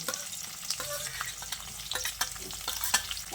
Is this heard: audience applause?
no